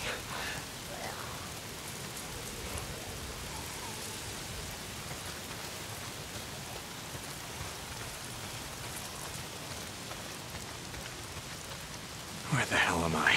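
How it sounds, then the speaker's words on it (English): Video game rain in Days Gone pours down with a constant hiss of drops, moderately loud and unbroken, with a brief louder rustle near the end. "Why is it always raining?"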